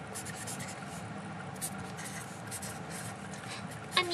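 Pen strokes scratch and rub across paper in quick, uneven bursts as notes are written by hand, faint and close, with a sharper tap near the end.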